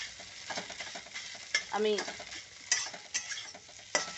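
An egg fries in a pan with a soft sizzle while a utensil stirs and scrapes against the metal in quick, light strokes, with a brief spoken word in the middle.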